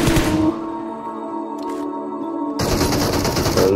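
AKM rifle fire in a first-person shooter game, a burst of loud automatic shots at the start, a brief lull with faint distant noise, then another dense burst of gunfire.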